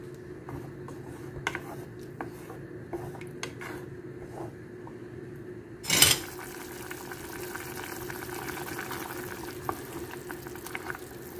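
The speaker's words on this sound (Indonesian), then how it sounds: "biarkan mendidih supaya tomatnya juga lunak" Tomatoes simmer in a pot for Yemeni bamiyah stew, giving a low, steady bubbling hiss, quiet and close, with one brief louder clatter partway through.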